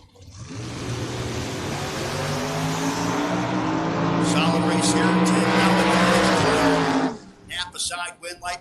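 Drag racing cars launch at a strip, one of them a 1981 Camaro, with a loud roaring engine howl that climbs and sustains for several seconds before cutting off abruptly, followed by a few brief revs.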